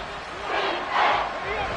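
A football stadium crowd roars at a Titans versus Panthers game, a dense sustained swell that rises briefly while the sound of speech runs over it.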